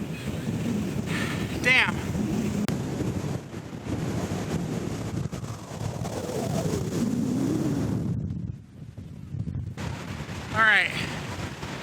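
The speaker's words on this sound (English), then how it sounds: "It was very windy." Strong wind buffets the microphone on a beach beside a dune, a steady heavy roar with gusts, while people talk briefly over it.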